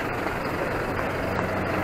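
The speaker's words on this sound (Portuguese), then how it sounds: "Carro do lixo ali" A garbage truck's engine rumbles steadily on a town-centre street in Iguaracy, Pernambuco, Brazil, a continuous loud broadband drone with traffic-like hiss and no talking.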